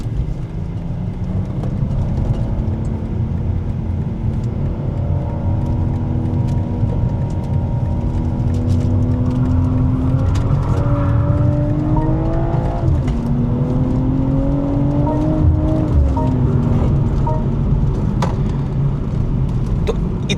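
A BMW M340i pulls hard through a long corner in second gear, its engine note climbing steadily in a loud, continuous rising drone with a brief dip near the middle before building again.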